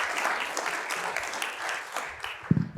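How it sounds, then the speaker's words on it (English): Applause from an audience at a business summit, a brief burst of clapping that stays fairly even and ends with a louder thump. "One more round of applause for Seta."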